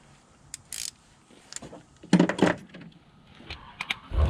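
A few short ratchet clicks loosening a car battery terminal on a Ford F150 at a roadside service call, sparse and close with quiet gaps and light handling noises between.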